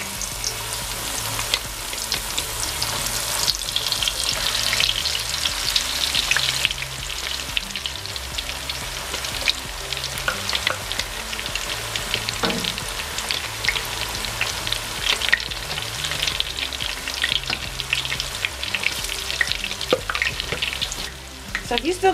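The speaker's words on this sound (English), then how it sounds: "we're going to add in our avocados to the oil." Avocados frying in hot oil to make a homemade hair oil, giving a steady, close sizzle and crackle that runs without a break, with occasional stirring scrapes.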